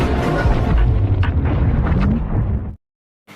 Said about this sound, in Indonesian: kapal selam itu pun meledak.